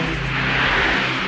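A remote-control model plane fitted with a couple of rocket engines whines steadily overhead, a loud, sustained buzzing drone with a constant pitch and no break, heard alone.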